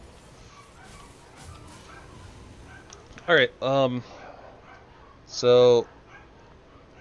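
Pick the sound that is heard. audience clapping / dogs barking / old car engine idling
dogs barking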